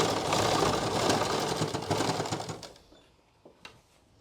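A sewing machine stitches a belt onto a salwar with a loud, fast, steady mechanical rattle for about two and a half seconds, then stops, leaving a few faint clicks.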